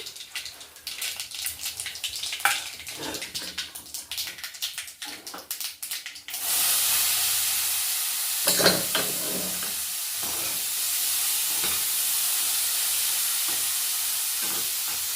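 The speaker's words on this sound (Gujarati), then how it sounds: "ચણાનો તડકો મારી દઈએ" Chickpea tempering begins with a crackling clatter, then a sudden loud steady sizzle as the chickpeas hit hot oil, with occasional stirring clinks underneath.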